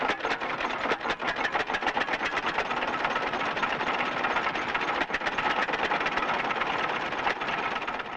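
A steady, loud International Harvester farm engine chugging with a rapid knocking rhythm, running continuously without any voices.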